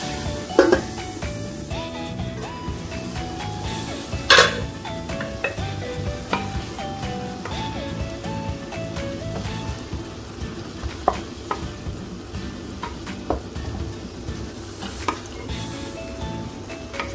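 Octopus adobo cooks in a pan with a steady close sizzle and bubbling, broken now and then by sharp clinks of a utensil against the pan.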